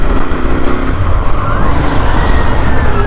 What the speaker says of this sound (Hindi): the bike is running smooth and it is as good as ever